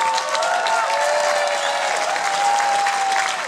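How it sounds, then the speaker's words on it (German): Sustained crowd applause and cheering at the CSD Munich pride event finale, loud and continuous, with whistles and shouts rising over the clapping. "das ist euer Applaus"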